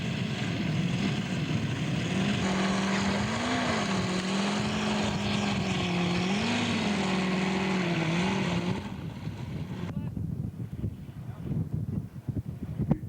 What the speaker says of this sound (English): Seidel 9-cylinder, Yak 11.